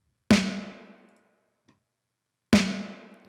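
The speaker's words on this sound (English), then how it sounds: "This is the snare." Two fat snare hits from a produced track, each a loud, punchy crack with a decaying tail, spaced about two seconds apart with silence between.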